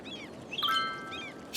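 Seagulls call near water in the city-building game Cities: Skylines, giving a few short, faint squawks with a soft whoosh between them. No other sounds are present.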